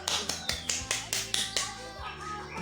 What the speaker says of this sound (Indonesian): Iya, tepuk tangan untuk kelompok 3.